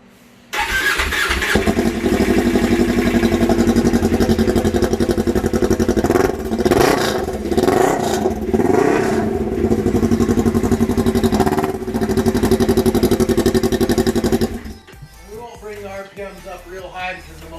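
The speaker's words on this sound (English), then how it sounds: "This is a cold start for all you guys who like cold starts." A 2014 Polaris RZR 1000 side-by-side with modifications starts cold: a brief crank, then the engine catches and roars loudly at a high fast idle, with a few revving surges, before cutting off near the end.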